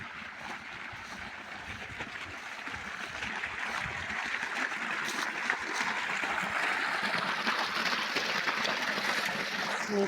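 Irrigation water rushes through a channel toward a sugarcane field, a steady broadband splashing flow that swells slightly louder and holds constant over the stretch.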